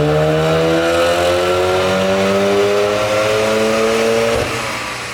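A VW Golf R with stage 1 modifications revs hard on a dyno. The engine holds a loud, sustained climbing drone for several seconds, then cuts off and winds down.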